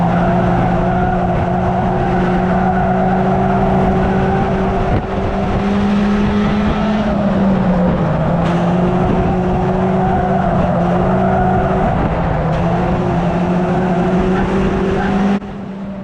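Stock cars race in a tight pack around the pit bend at Cowdenbeath Racewall, their engines roaring loud and continuous with shifting pitch as they jostle through the corner, with a brief tyre scrub along the way.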